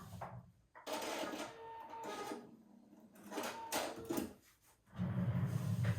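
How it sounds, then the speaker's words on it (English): A sewing machine runs a zigzag stitch to join the overlapped ends of elastic, with a steady mechanical whirr that stops and restarts in bursts, close by and alone. "overlap them, and just sew a quick zigzag stitch to join them together."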